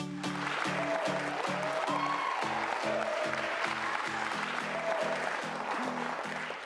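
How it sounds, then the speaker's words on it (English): Wedding guests at a modern industrial venue clap together in steady, sustained applause, a dense crowd of hands filling the room with faint background music underneath. "Let's give a round of applause to Meg."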